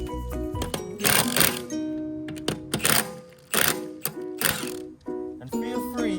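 A ratchet wrench loosens the bolts on a damaged Mercedes brake rotor in bursts of rapid, close metallic clicking, with short pauses between bursts.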